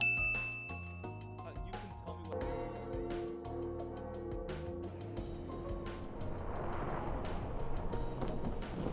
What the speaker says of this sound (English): which allows us to finally ring the second bell of awakening